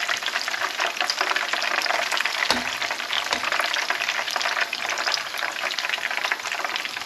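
Chips bubble and crackle in deep hot oil, a dense steady frying hiss with fine spitting pops throughout, close up and without voices.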